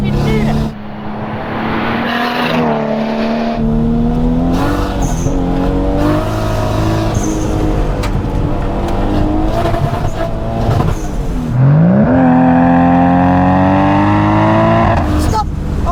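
A Nissan Skyline R33 GTS25T drives hard on a track, its engine revving up and down through gear changes and braking, loud and close from inside the car while people talk.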